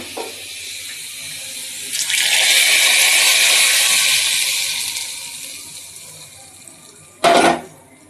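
Hot fried tempering (bagar) poured into a pot of nehari with the stove turned off, a loud hissing rush that swells and slowly fades, then ends with a sharp metallic clatter.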